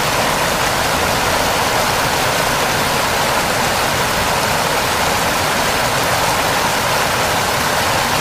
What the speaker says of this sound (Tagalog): Ganyan po kalakas ang agos ng tubig kahit hindi maulan sa lugar na ito.